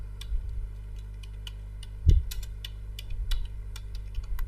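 Keys on a computer keyboard click in quick, uneven bursts of taps, close and fairly quiet, with one heavier thump partway through.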